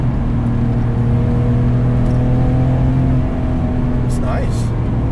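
A 515 hp RUF 996 RTurbo pulls hard in third gear on the road, its engine a steady droning whir with layered harmonic tones heard from inside the car, ending in a brief rising whine.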